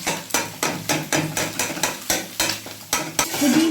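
Beaten egg fries in a pan for a dhaba-style egg tarka, with a spatula scraping in quick, regular strokes about three times a second over a soft, close sizzle, and no talking.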